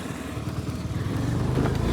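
A scooter being ridden gives a close, buzzing engine note that rises in pitch and loudness as it speeds up over two seconds.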